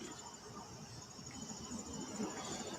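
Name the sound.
crickets chirping outdoors at night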